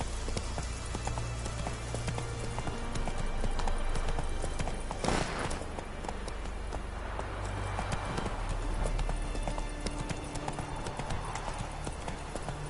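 Hoofbeats of the horse Roach in The Witcher on PS4, a rhythmic clip-clop of steady trotting hooves over a faint rain-like ambience, with a brief louder rustle partway through.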